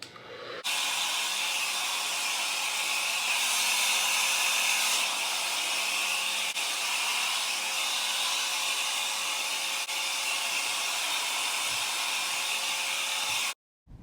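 A handheld blow dryer runs steadily at close range while drying short pixie-cut hair, a continuous airy roar with slight shifts as it moves, then cuts off abruptly near the end.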